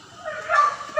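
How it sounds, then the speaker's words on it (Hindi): A dog in a residential neighbourhood gives a short, strained yelping bark, fairly close and loud, over a quiet background. "देखो कितनी बुरी तरह आवाज़ आ रही है कुत्ते की"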